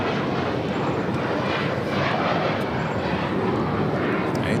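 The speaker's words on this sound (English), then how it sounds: "It's an A350 heading to Paris, heading to the south side for a takeoff." A Delta Air Lines Airbus A350 bound for Paris takes off at LAX with a loud, sustained jet roar that holds steady throughout, heard alone without any talking.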